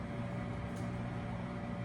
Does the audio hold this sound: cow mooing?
no